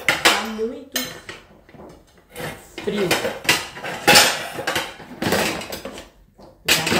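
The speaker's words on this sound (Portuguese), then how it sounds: "Vou guardar minha louça" Dishes and cutlery clatter and clink repeatedly as washed tableware is put away in a home kitchen, with someone talking over the sounds throughout.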